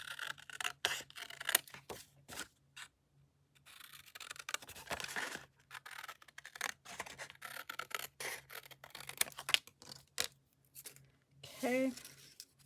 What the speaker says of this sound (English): Use the bigger scissors.